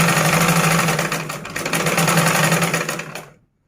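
A basic sewing machine stitching cloth, running as a loud, steady mechanical whir with a fast rhythmic pulse close up, then stopping abruptly near the end.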